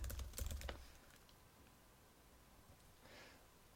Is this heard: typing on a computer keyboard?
yes